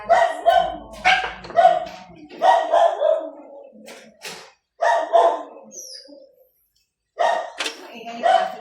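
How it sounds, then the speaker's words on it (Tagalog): A dog barks loudly and close by in repeated short bursts, several barks in quick clusters separated by brief pauses, with a little background noise between them. "Maingay yung aso ng vlog lang."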